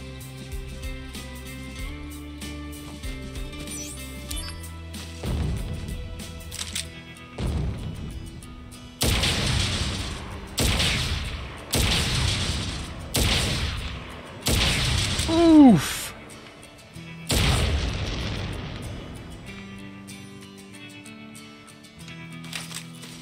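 Gunfire and explosions in Crisis Core Final Fantasy VII Reunion on hard mode: a series of heavy, booming bursts, several in close succession, cutting loudly over steady background game music.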